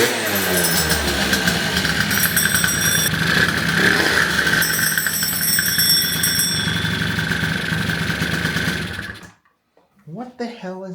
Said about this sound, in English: So that tinging sound was this starter gear.